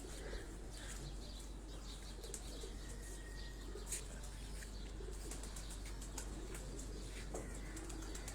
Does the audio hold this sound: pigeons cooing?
yes